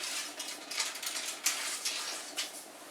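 A ramrod driving a charge down a gun barrel, producing a few sharp metallic clinks and scraping strokes, roughly three distinct hits in quick succession, close and fairly quiet.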